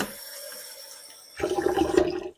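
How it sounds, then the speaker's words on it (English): Water poured into a container of ingredients in a home kitchen, a short rushing splash that starts abruptly after a quiet stretch and stops after about a second, alone without talk. "So I'm going to put some water in here"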